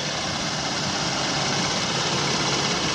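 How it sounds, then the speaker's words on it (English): A 2013 Chevrolet Impala engine idles steadily with a constant low rumble and hum, loud and close, with no voices. "I'm gonna be quiet momentarily so you can hear the engine"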